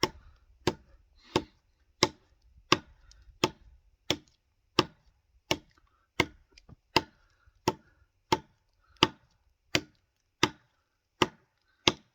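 A Schrade Old Timer D2 169OT knife chops hard into wood in a steady rhythm of about eighteen sharp, evenly spaced thwacks, each a crisp near impact against a quiet background.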